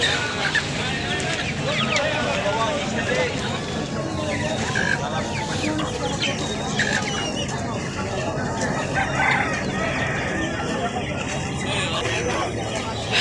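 Fighter chickens at a Bangladeshi market crow and cluck repeatedly amid a busy babble of people talking and traffic noise nearby.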